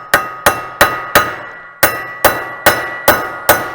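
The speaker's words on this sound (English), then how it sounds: "I'm going to grab my T27 bit here and a hammer" A hammer taps a T27 bit into a clutch screw: nine sharp, close metallic strikes in a steady rhythm, four quick hits, a short pause, then five more, each ringing briefly.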